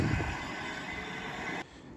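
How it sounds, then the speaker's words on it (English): GBRF Class 66 diesel locomotive passing at Cheadle Hulme on the West Coast Main Line while hauling an engineer train, giving a loud, steady rumble and rail roar close by that drops off abruptly near the end, with no voices. "Now coming down is a GBRF 66 working an engineer train."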